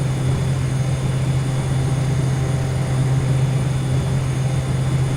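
A larger airplane's engine drones in a flight simulation game, a steady low hum with a constant tonal buzz, loud and unchanging, with no talking.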